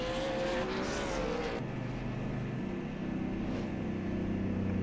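V8 Ford Falcon race cars at Oran Park roar past in a loud, continuous engine drone, pitch sliding as one car fades and another sweeps through close by.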